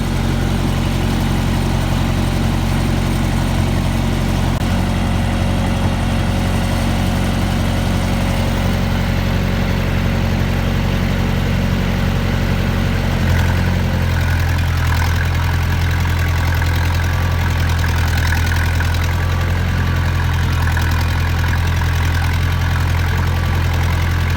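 A farm tractor carrying a hay bale on its back over snow runs steadily and fairly close, a low rumbling engine drone that shifts and deepens partway through, with no talking.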